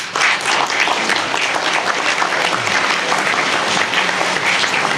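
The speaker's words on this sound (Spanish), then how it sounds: "No aplaudan tanto" Dense, loud audience applause fills the whole stretch without a break, welcoming a family court judge to the stage at a talk on adoption in Mar del Plata.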